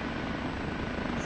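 An OH-58D Kiowa helicopter in the DCS flight simulator, a dense, continuous rotor and turbine roar, loud and steady without pause.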